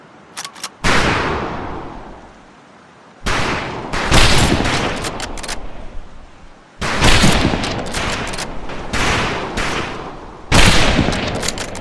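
Rifle fire crackles across a boot camp firing range in Medal of Honor Pacific Assault, loud overlapping volleys of shots in dense bursts separated by short pauses.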